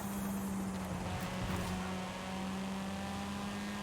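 A car engine in a video game drones steadily and loudly for the whole stretch, holding one continuous humming pitch with no clear rises.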